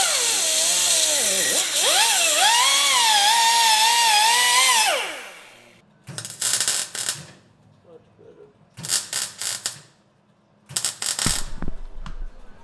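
A power tool runs in a garage workshop during repair of a broken shower bracket. A loud, whining run shifts in pitch for about five seconds, then stops, followed by three shorter, harsh bursts with pauses between them.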